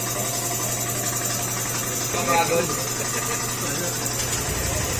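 An air compressor runs to pressurize a fuel tank feeding a stalled motorcycle engine whose fuel pump has been bypassed, giving a steady, droning mechanical hum beneath someone talking.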